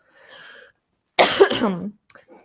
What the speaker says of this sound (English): Sorry, I just have a cough.